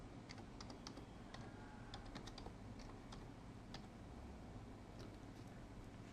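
Keys clatter on a computer keyboard, a quick, irregular run of light taps against a faint background hum, heard alone without any talking.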